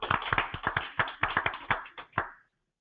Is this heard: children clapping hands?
yes